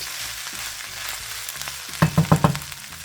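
Food is stirred and heated in a hot pan on medium heat, giving a steady low sizzle with several sharp scraping stirs clustered near the end.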